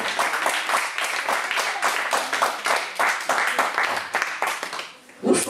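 A church congregation claps steadily and acclaims together in a continuous, loud, rhythmic wash of hands and voices, with a louder burst near the end.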